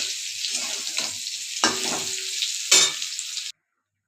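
Soybean chunks frying in oil while being stirred, a loud close bright sizzle with a few scraping stirs of the spoon, alone and with no voices, ending abruptly.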